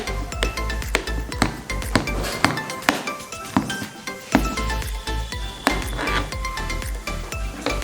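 A knife slices a peeled banana on a board. Crisp, evenly spaced taps and clinks repeat about every half second, close and fairly loud.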